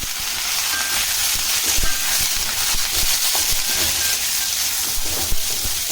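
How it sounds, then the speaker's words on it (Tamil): Gooseberries drop into hot oil in a pan and sizzle with a steady, loud, hissing crackle that continues unbroken throughout. "இப்போ இந்த நெல்லிக்காய் இதில் போட்டுக்கலாம்"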